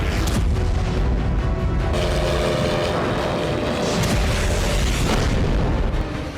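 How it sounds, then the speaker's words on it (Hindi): Heavy, booming blasts in the sky as drones collide with missiles in the Russia-Ukraine war, rolling one after another amid a constant roar, loud and continuous with sharper bursts breaking through. "ड्रोन और मिसाइल की टक्कर से आसमान में कई धमाके हुए।"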